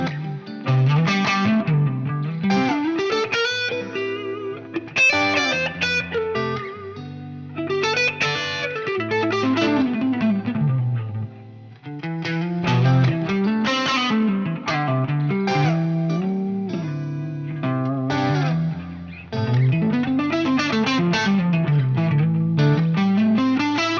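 A distorted electric guitar through a Celestion Alnico Blue speaker plays loud, driving riffs with sustained notes and string bends, heard alone and close for the whole stretch.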